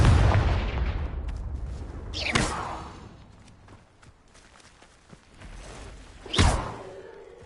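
Confringo blasting spell cast in Hogwarts Legacy, heard as two sharp whooshing blasts a few seconds apart, each a loud explosive burst over a low rumbling game background.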